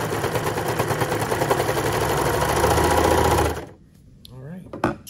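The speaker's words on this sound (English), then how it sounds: "I'm gonna serge them together on this side and it will be seamed together" A serger overlock sewing machine stitches a fabric seam in a fast, rhythmic whir for a few seconds, then stops abruptly, leaving quiet handling sounds and a brief voice.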